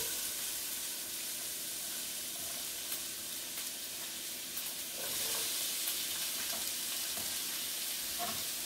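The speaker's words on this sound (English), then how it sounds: "I am going to caramelize the onion." Onion caramelizing in a pan on medium-high heat for a lentil stew, a steady close sizzle and hiss with faint stirring scrapes and no talking.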